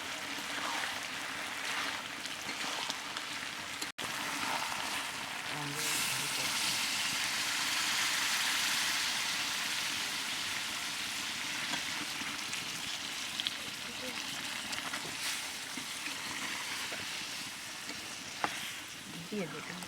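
Mutton pieces sizzle and hiss steadily in a hot pan as water is added for braising, a loud continuous frying crackle with occasional stirring clinks and faint background voice.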